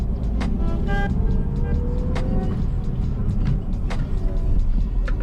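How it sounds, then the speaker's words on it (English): A manual Saab car about twenty years old pulls away as the clutch is released, its engine droning steadily and close by with a low rumble. "Go and let off the clutch."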